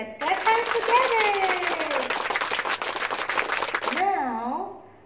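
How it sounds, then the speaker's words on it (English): Children in a nursery-level number lesson clap their hands together in a brisk burst for about four seconds, with a voice carrying over the clapping before it stops and the voice continues alone. "let's clap hands together."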